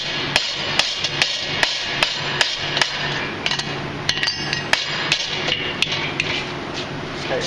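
A hammer strikes a steel bottle opener being forged, sharp ringing blows landing in a steady rhythm of roughly two per second, close and loud over a low background hum.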